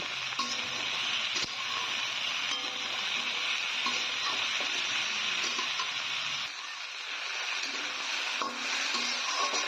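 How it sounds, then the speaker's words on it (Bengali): Potato and cauliflower pieces frying in oil in a pan, a steady loud sizzle with occasional stirring scrapes, continuous and close, with no talking. "এবার আলু আর ফুলকপিটাকে লাল লাল করে ভেজে নিতে হবে"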